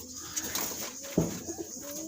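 Soft cooing from caged Pakistani high-flying breeding pigeons comes in low murmurs, with one fuller coo near the middle, over a quiet background hum.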